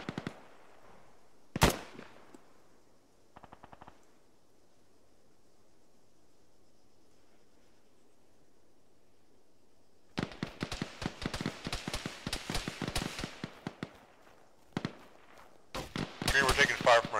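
Incoming gunfire during an Arma military operation: a couple of isolated sharp cracks, then a long quiet stretch, followed by dense rapid bursts of shots, some distant and some loud and close, with radio chatter between.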